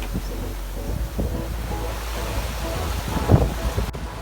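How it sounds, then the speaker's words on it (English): Strong wind of about 21 to 22 knots at sea aboard a sailing boat on a broad reach crossing the Bay of Biscay: a steady, loud rush of wind and water with a brief louder gust or splash near the end. "we got 21, 22 knots of wind, pretty nice."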